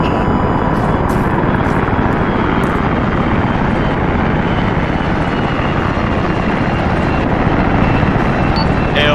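A medevac helicopter in the video game Arma 3 thunders at close range, its rotor chop and engine roar loud and constant throughout, with a faint voice barely present underneath.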